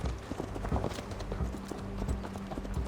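Horse hooves clip-clop in Assassin's Creed Valhalla, a brisk run of close, muffled thuds over a low ambient bed, with no voices.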